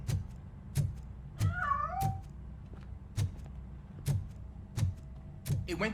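A cat in the video game Robocop: Rogue City escapes and meows: a clear, rising-and-falling meow stands out over a run of sharp percussive footsteps or knocks at a steady pace.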